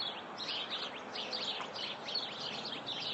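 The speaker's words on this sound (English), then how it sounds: "And I hear the cardinal over that way." A cardinal sings a repeated series of clear, slurred whistled notes in a steady rhythm, moderately distant, over a soft outdoor background on a back porch in the morning.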